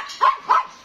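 Two sharp, close barks in quick succession from a dog at a dog farm where pregnant German Shepherds are kept.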